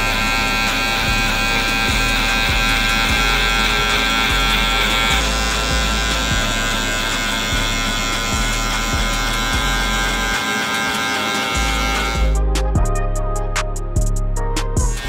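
Electric hair clippers fitted with a one guard and the lever open, buzzing loudly and steadily up close while cutting a skin fade, with a brief change in tone near the end and no talk.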